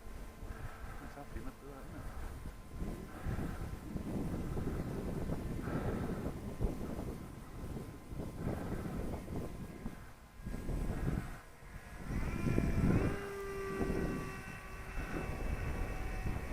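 An FPV Raptor model airplane flying at about 40% throttle, a steady buzzing motor drone heard from the ground with wind noise on the microphone and a rise in pitch near the end.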